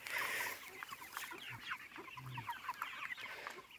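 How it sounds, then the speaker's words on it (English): Flock of backyard chickens clucking steadily outdoors, with many overlapping soft clucks and chatter at close to moderate distance and no talking. "Happy chickens"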